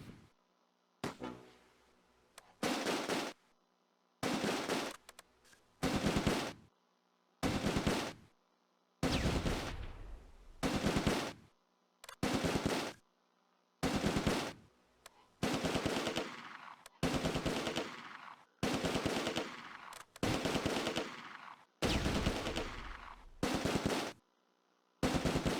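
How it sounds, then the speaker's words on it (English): Medium machine gun fire in the Close Combat: A Bridge Too Far war game, about a dozen sharp sustained bursts separated by short silences, loud and close with no talking. "Time for my medium machine gun to start suppressing the two-storey building"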